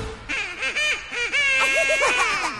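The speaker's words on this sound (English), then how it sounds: "he led the others with a quack, quack, quack" Goose-like honks and quacks from a duck in a Barney children's program, repeated in a rapid bouncing series over light background music, loud and close.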